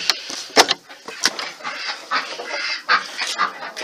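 Chickens clucking and squawking in short, irregular bursts as they are let out of a backyard coop, close and fairly loud, with no talking.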